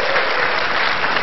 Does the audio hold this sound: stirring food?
no